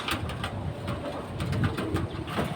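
Pigeons of old breeds kept for sale, soft repeated low cooing in overlapping bursts, close and fairly quiet, with no talk.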